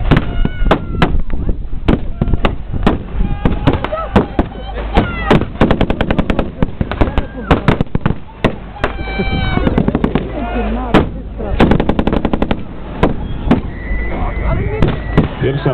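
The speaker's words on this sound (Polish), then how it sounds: "To jest wezwana artyleria, ostrzelała rosyjską." Gunfire, artillery and explosions at a WWI battle reenactment near Bolimów, with a rapid series of sharp, loud bangs and crackling bursts, some in quick runs like machine-gun fire, while voices call out between shots.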